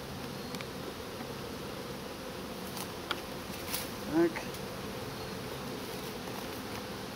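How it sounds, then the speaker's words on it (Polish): Bees buzz steadily around beehives during a hive inspection, a continuous near insect drone across the whole stretch, with a brief short word spoken over it. "Pszczoły widać pracują"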